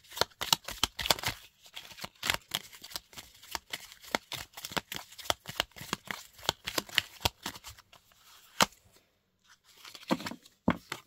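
Kipper cards are shuffled by hand in rapid bursts of crisp riffling and slapping, close and fairly soft, with short pauses between handfuls.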